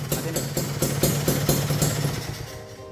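Modified older Kawasaki Ninja RR two-stroke motorcycle idling close by, a loud, steady rumble with regular rhythmic pulses and a slight clattery edge, alone without talk.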